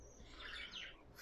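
A budgerigar in a home aviary, with the male outside the nest box and the female inside, chirps in a quick, faint string of tweets against a low background hum.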